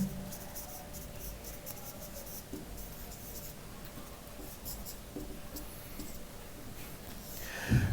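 Writing on a board during a maths lecture on functions gives soft, steady scratching strokes that start and stop in short runs, with a louder knock at the very end.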